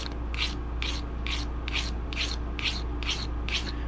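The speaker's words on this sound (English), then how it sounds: "Just try to build that burr on the other side." Steady back-and-forth rasping of a file over a traditional broadhead blade edge, about eight even strokes close up against a constant low hum, building a burr.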